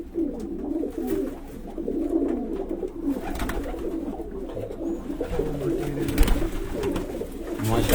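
A home-bred bateray pigeon coos close by in soft, low repeated calls, with a person talking quietly in the background.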